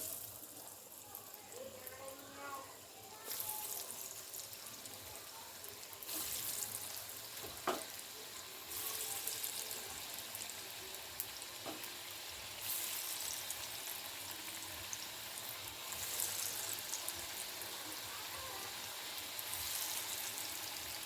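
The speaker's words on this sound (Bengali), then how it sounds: "আমি একটা করে কাবাব ছেড়ে দেবো ভাজার জন্য" Kebabs fry in hot oil with a steady sizzle that fills the clip, broken by a few sharp pops and clinks, with faint voices now and then.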